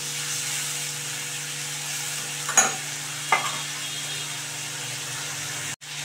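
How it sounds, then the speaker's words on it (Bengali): Prawns fry in hot oil in a pan, giving a steady, even sizzle throughout with a couple of brief metallic scrapes from stirring and a low background hum. "এবারে আমি কিন্তু চিংড়ি মাছটাকে ফ্রাই করে নিচ্ছি"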